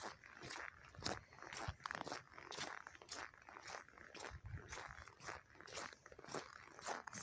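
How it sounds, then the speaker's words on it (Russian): Footsteps crunch and creak through cold snow on a sunny winter day, a regular, fairly close stride of roughly two steps per second that continues throughout, fairly quiet. "Снег скрипит."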